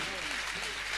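Dense applause from an audience at a Jain Siddhachakra Mahamandal Vidhan ritual ceremony, a steady wash of many hands clapping without pause for about a second.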